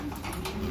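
An African Black Eagle pigeon gives a brief, close coo lasting under a second, alone without talk.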